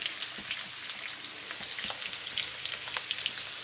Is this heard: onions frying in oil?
yes